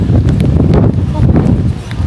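Strong gusting wind high up on an elevated spot buffets the microphone with loud, rumbling bursts, while people talk nearby.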